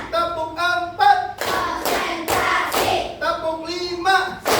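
A class of students claps in counted bursts, sharp broadband clusters of hand claps alternating with a teacher's voice calling out numbers in a classroom.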